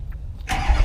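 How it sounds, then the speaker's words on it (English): A lifted Duramax diesel truck engine cranking over briefly and then catching into a loud, rough idle, close and alone with no voices. "she's gonna go ahead and crank on the truck right now and show you guys"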